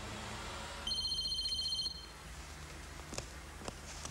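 A mobile phone ringtone chirps for about a second in a quiet home, a bright electronic tone at moderate volume, followed by near-silence with a few faint clicks.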